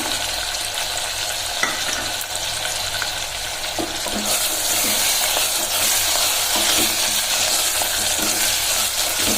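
Lentils and spices fry in a pan, giving a loud, close, continuous sizzle that swells brighter partway through, with occasional scraping from stirring and no voices.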